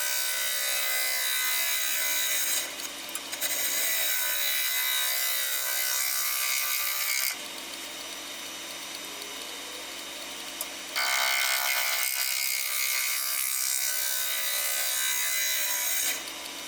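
Wood is worked by hand to remove tool marks before sanding, giving a steady rough rasping scrape in long sustained strokes with brief pauses between passes, close and fairly loud with no talk.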